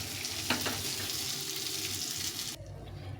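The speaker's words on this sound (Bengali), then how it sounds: "এই তেলে এখন বাকি মাছটা ভেজে নেব" Fish fries in oil in a pan with a steady close hiss and a couple of sharp crackles early on, then the sizzle cuts off abruptly near the end, with no speech.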